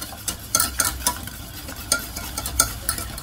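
Warm cream and about 40 g of butter whisked together in a bowl, a close, steady rhythm of quick scraping strokes with sharper clinks recurring every half second or so, no voices.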